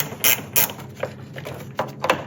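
A ratchet clicks in a few short bursts while loosening the 10 mm negative battery terminal on a 1998–2002 Toyota Corolla with the 1.8L 1ZZ-FE engine, close and fairly quiet with no talk.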